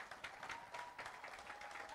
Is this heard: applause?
yes